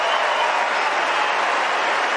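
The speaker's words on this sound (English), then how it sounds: "I think he deserves a big round of applause after that" A tennis crowd at Wimbledon 2022 applauds a point in a Novak Djokovic match, a loud, continuous wash of many hands clapping that fills the whole moment.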